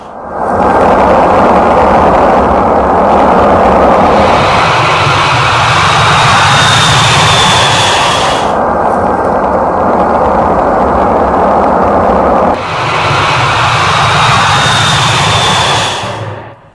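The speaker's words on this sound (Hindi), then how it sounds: "अमेरिका ने अपना सबसे खतरनाक विमान B-52 बॉम्बर भी उतार दिया है" Roaring jet engines of a B-52 bomber aircraft produce a loud, sustained broadband rumble with a faint rising whine, swelling in two long passes over about seventeen seconds.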